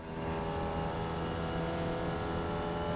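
Onboard a Formula Vee race car at Summit Point, a steady loud engine drone held at high revs with a continuous buzzing tone and no voices.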